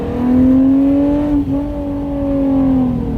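Hyundai Genesis Coupe with muffler delete at full throttle from first gear, a loud raw exhaust drone climbing in pitch, a brief dip at a quick shift, then climbing again, close and continuous.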